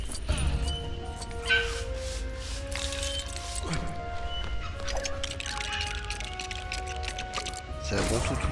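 A dog barks, yips and whimpers in the LEGO Jurassic World video game, over game effects and occasional crashes. A person talks throughout.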